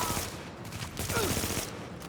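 Rapid gunfire in The Division, a near, continuous volley of shots with brief gaps, layered and loud throughout, with no speech.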